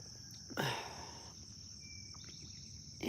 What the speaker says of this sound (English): Cicadas. Cicadas.